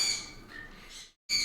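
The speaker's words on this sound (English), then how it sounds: "And those birds" Pet birds indoors let out loud, harsh squawks, a sustained raspy call that cuts off briefly before another squawk starts.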